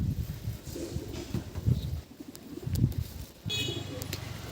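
Pigeons offered for sale coo in low, throaty bursts while someone talks over them, with faint chirps in the background.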